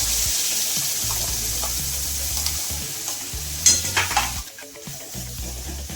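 Ground masala hitting hot oil and stirred for shev bhaji, a steady close sizzle with scraping stirs and a brief louder clatter near the end, no talking.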